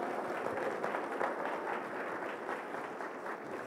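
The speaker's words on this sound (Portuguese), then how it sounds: "E aqueles que creem aplaudam ao Senhor." A church congregation claps steadily through a Portuguese-language sermon, a dense, continuous wash of applause at even loudness with no voice on top.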